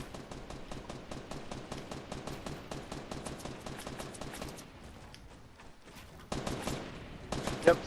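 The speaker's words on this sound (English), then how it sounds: "Yep, someone else is shooting at him." Video game gunfire rattles in rapid bursts, fairly faint, then thins to scattered shots before a final flurry.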